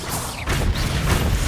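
An Expelliarmus spell cast in the Hogwarts Legacy video game, a loud, dense burst of magical whoosh and crackle that rises sharply and then holds for about a second.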